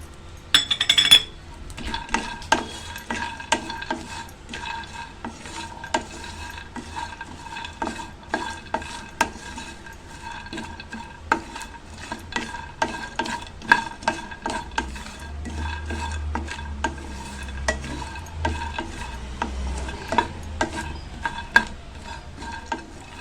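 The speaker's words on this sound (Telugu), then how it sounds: "సో ఇందులోనే కొన్ని పల్లీలు కూడా వేసుకుందాం, హాఫ్ కప్పు" Half a cup of peanuts roasts in a pan while a spoon stirs them, a long run of dense rattling clicks and metallic scrapes over a soft sizzle, close and fairly loud.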